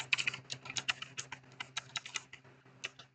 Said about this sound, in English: just type in the text over here